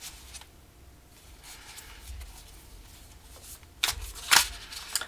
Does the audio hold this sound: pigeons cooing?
no